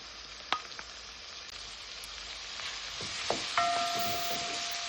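Onion, scallion, tomatoes and seasoning fry in rendered pork fat, a steady close sizzle running throughout with a few sharp pops and spatters and a brief utensil clink near the end.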